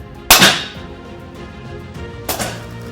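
A Daystate Red Wolf Laminate HP air rifle fires two sharp, close shots about two seconds apart, each a crisp crack with a short decaying tail, the second slightly quieter.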